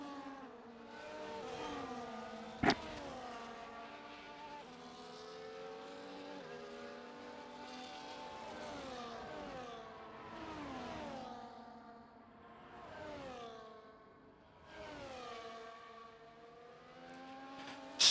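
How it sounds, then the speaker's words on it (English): Race cars of a CanAm series run a formation lap in Austria, several engines droning and revving through rising and falling gear sweeps, passing one after another at middle distance with a sharp click early on. "here we go with the formation lap for the third round of CanAm's 7th season"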